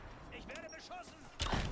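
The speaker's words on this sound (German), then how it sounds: "Ich werde beschossen." After a short stretch of talking, a single loud burst of gunfire aimed at the player in Rise of the Tomb Raider cuts in near the end, close and harsh.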